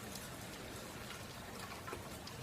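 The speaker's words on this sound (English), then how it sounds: "starting to get a pocket downpour again, maybe" Heavy rain downpour heard outdoors while walking, a dense, steady hiss of falling drops that stays fairly faint throughout the short stretch.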